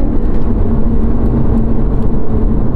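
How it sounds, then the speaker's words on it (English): Lotus Evora GT with a supercharged V6, a steady loud engine drone and whir heard from inside the car, holding an even tone without sharp revs. "Who would have thought that a Camry V6 could sound this good?"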